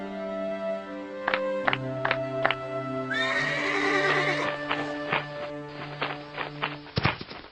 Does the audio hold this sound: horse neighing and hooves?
yes